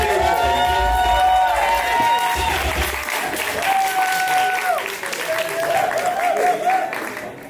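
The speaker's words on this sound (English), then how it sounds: "Give a round of applause for the organization." Audience at a Dutch Kiki scene awards ceremony applauding and cheering, dense clapping with whoops over a hall, music tones sliding underneath throughout.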